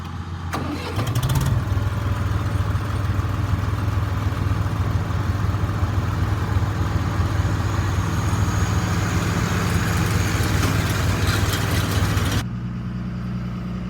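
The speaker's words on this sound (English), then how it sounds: "Raking with the 485 H&S 10-wheel rake." A tractor drawing a 485 H&S 10-wheel hay rake through a field, giving a steady loud engine drone with mechanical rattle that holds unbroken for about eleven seconds before quickly dropping back.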